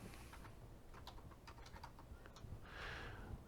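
Keys clack on a computer keyboard in a short, uneven burst of taps, faint and close against a low background hum.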